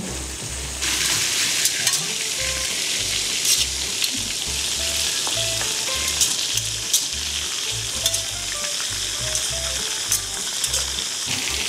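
Prawns deep-frying in hot oil for a cereal prawn dish, a steady loud sizzle and crackle running throughout with small pops and bubbling, no talk.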